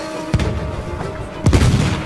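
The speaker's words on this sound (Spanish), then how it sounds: "Es un disparo de lado." Two heavy gunshot blasts from the Battlefield 1 campaign on Xbox One, a sharp crack followed about a second later by a louder booming report, each trailing off into rumbling battlefield ambience.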